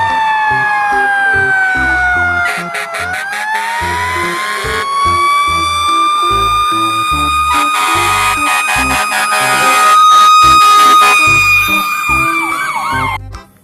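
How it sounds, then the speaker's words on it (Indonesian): A toy fire truck's electronic siren wails loudly and continuously at close range, with rapid beeping bursts and a rhythmic pulsing tone mixed in, and no voices over it. "Mobil pemadam kebakaran."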